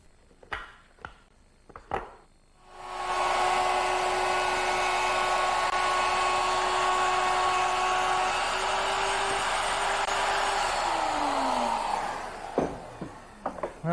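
A plunge router makes a second pass with a large circle guide, whining loudly and steadily for about nine seconds after a few knocks, then spinning down, with clicks at either end.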